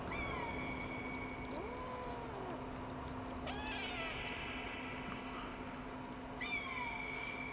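A cat in the game Stray gives several meows with rising and falling pitch over a steady humming background drone, fairly clear and spread across the scene.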